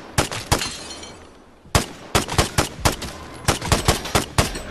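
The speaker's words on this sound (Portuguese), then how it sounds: "E fica brincando de tiro ao alvo" Gunfire during target practice in the video game Vigor: sharp single shots, then quick bursts of loud cracks in an uneven rhythm, with no talking.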